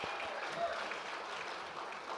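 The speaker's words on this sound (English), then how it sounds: "keep going, round of applause." Audience applause for a contestant at the Miss Indigenous Canada pageant, a soft, fairly distant wash of continuous clapping that stays even throughout the short moment.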